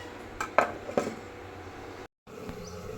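A metal lid set onto a cooking pot in a home kitchen, giving a few sharp clinks and a rattle close by, then a brief pause and faint kitchen background.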